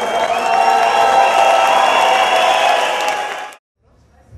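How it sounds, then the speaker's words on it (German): A large crowd at a breakdance crew battle in Hannover claps and cheers loudly for a few seconds, then the applause cuts off abruptly into near silence. "alle Crews, die heute hier antreten, mit einem großen, frenetischen Applaus empfangen"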